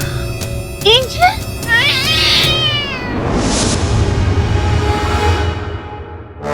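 A cat meows and caterwauls loudly near the start, several rising wails over a humming background, followed by murmuring voices in a tense courtroom drama scene.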